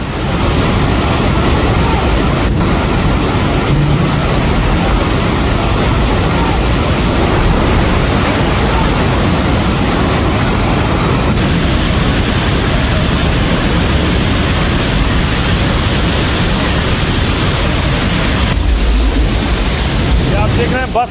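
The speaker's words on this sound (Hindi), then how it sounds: "पानी का बहाव देखिए जरा, इतनी तेज पानी आया है कि खिलौनों की तरह बस पानी में बहती हुई चली गई है" Flash flood water in Nepal near the China border rushing past a bus depot, a loud, continuous roaring torrent with heavy wind buffeting, steady and unbroken throughout.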